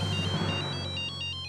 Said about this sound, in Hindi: रात को कौन फोन कर रहा अभी